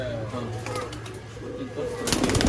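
Dubas pigeons at a pigeon sale in Bangalore cooing softly in short low calls, with a louder burst of noise toward the end.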